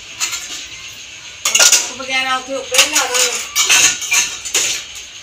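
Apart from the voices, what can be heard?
washing dishes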